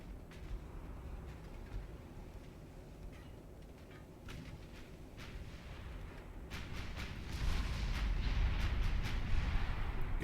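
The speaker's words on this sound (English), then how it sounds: "Good salvo." Naval gun salvos boom in a dreadnought-era sea battle in Ultimate Admiral Dreadnoughts, with distant rumbling reports building to a louder, denser barrage toward the end.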